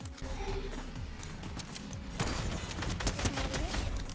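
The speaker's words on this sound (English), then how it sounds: "I shot through his legs." Rapid bursts of gunfire in a shooter video game, sharp cracks clustering in quick volleys that grow denser and louder in the second half, with faint background voices.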